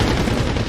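Heavy gunfire from a big mounted gun in Medal of Honor: Warfighter, a dense, continuous rattle of rapid shots, loud and close, with no talking.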